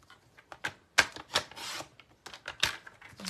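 Designer paper being trimmed for a handmade card, heard as a handful of short, close, crisp cutting and sliding strokes at an uneven rhythm, with quiet gaps between them.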